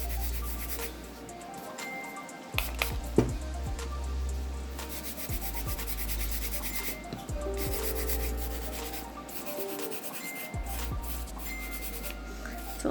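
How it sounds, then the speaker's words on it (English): A brush scrubs nail prep liquid onto a fingernail during a nail infill, giving a close, continuous soft rubbing and scratching with a few sharper taps, steady throughout. "I'm just going to scrub this into the nail"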